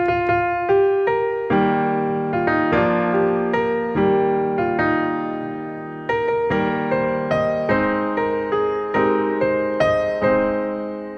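Solo piano plays a simple melody from a lead sheet, clear struck notes with bass chords in a steady, moderate rhythm, close and alone without voices.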